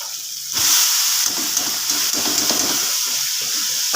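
Washed cabbage hits hot fried spice paste for a vegetarian dish, bursting into a loud sizzle that settles into a steady hissing crackle with faint clinks of stirring.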